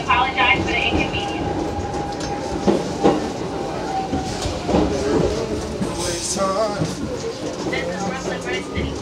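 Riding an R62A 4 train on the New York subway between 110 Street and Brooklyn Bridge: loud continuous rumble with rattling, clacking wheels and occasional metallic squeals, people's voices faintly mixed in.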